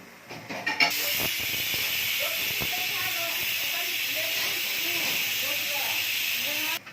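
A pressure cooker whistle releases steam in a loud, steady hiss that starts abruptly and holds for several seconds, with faint chirping in the background.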